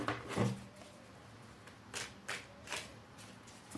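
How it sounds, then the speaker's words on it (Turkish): A deck of tarot cards is shuffled by hand close by: a riffle of flicking cards, then several short soft shuffling bursts at a quiet level. "Ondan sonra bir daha karıştıralım."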